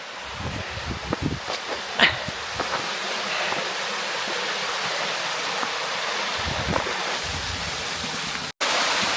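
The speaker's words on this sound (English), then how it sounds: "this is the waterfall part of the walk" Steady rushing water of a waterfall in woodland above the town of Ceret in the Pyrenees-Orientales, a constant broadband roar with a few brief knocks and rustles near the start and a short dropout near the end.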